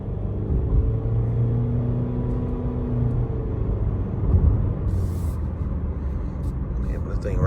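A 2025 Honda HR-V EX-L on Hankook tires accelerates, its engine drone rising as a steady low rumble and road noise inside the cabin, with someone talking over it.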